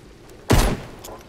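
A single loud gunshot from Fortnite hits a wall tile, a sharp close blast with a short decaying tail, alone with no talk.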